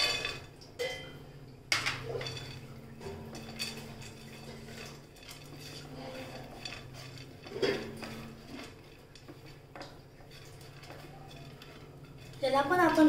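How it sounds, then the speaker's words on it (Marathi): Dry fruits roast in ghee in a pan, with occasional scrapes and clinks of a spoon against the metal, faint sizzling underneath, quiet stretches between the stirring and a louder clatter at the end. "त्याला पण आपण थोडा वेळ भाजून घेऊया।"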